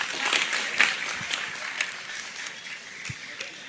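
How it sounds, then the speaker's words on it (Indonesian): Audience applause for Pak Busro at an evening religious gathering, a steady patter of many hands clapping through the whole stretch, moderately loud with scattered sharper claps. "Oke, tepuk tangan Pak Busro semuanya."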